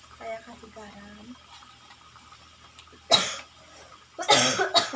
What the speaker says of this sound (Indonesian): Sampai batuk-batuk, maaf ya.